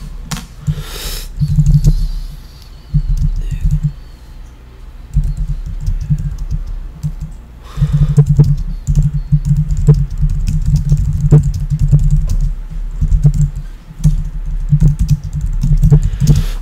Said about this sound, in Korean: 이 부분 설명하기 위해서 잠깐 타이핑 좀 하면요